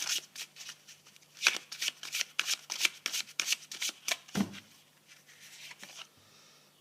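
Tarot cards are shuffled by hand in a quick burst of crisp riffling flicks and rustles, then slow to a few soft slides as a card is drawn, close and fairly quiet.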